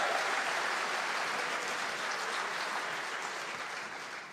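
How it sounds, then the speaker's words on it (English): Audience applause at the Equator Prize 2019 ceremony, a dense, steady wash of clapping from a large crowd that holds loud throughout and tapers slightly at the end. "no, this is applause."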